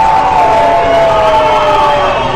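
Home crowd at a baseball game at Remax Field roaring and cheering after a game-tying double, a loud sustained swell with whistles and shouts throughout.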